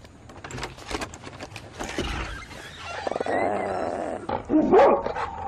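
A dog barks repeatedly in a horror film scene, sharp agitated yelps and growls bunched together, fairly close, over a busy background.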